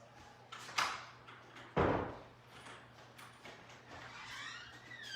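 Household door opened at home, heard as a couple of dull thumps and a rattle, the second bump louder, over steady low room hum with faint rustling afterward.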